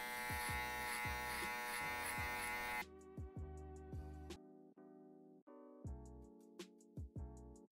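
Electric hair clippers with a number one guard and the lever fully closed buzz steadily and close during a low fade haircut, the loud hum broken by brief stops and restarts toward the end.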